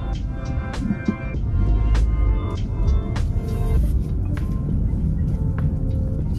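Inside a 2024 Nissan Altima SV set to sport mode, a deep engine and road rumble swells and holds steady, with a few sharp clicks and knocks near the start.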